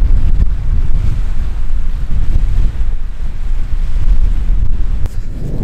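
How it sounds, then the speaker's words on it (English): Strong wind at Leslie Dam on a very windy day, roaring and buffeting against the microphone as a loud, constant low rumble that surges and gusts throughout, with no talk. "I don't know if you'll even be able to hear me because it's so windy"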